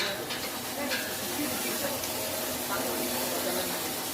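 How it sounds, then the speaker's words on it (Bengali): Puffed rice roasting machine with a six-pan setup popping local rice, a steady broadband hiss and rumble throughout with faint crackles, loud and continuous without clear talk. "দেখুন সকড়াই সিস্টেমে আমাদের উন্নত সিস্টেমের মেশিন, দেখুন সকড়াই সিস্টেম, একদম দেশি চালের মুড়ি"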